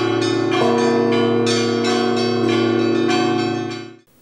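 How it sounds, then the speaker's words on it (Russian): Church bells from a Nizhny Novgorod church, cast at a bell foundry in Tutaev, ring loud and close in a rhythmic peal of repeated overlapping strikes with long ringing tones, fading out at the end. "Колокола для Нижегородской церкви были изготовлены на колокольном заводе Владимира Шувалова в городе Тутаеве Ярославской области"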